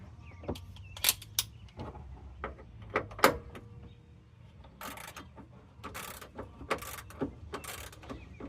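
Repeated ratcheting clicks and clunks from a socket ratchet loosening the rear shock top bolt on a Chevy Trailblazer, sharp close-up bursts in an uneven rhythm with brief pauses, no talk.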